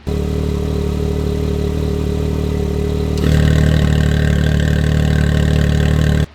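A UTV engine with an MBRP Dual-Out Active Exhaust idles with a steady low rumble, then abruptly gets louder and raspier halfway through as the exhaust opens, before cutting off at the end.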